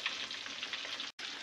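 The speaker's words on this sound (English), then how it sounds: "Yang kat sebelah ni tengah goreng ikan merah ya" Red snapper frying in a pan, a steady, hissing sizzle of hot oil heard close up and continuous apart from one brief dropout.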